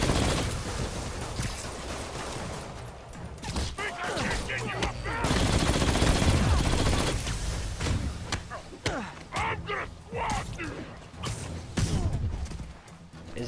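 Gunfire rattles through a shooter video game, with dense automatic bursts and single cracks repeating across the whole stretch, loud and close, while players talk over the shooting.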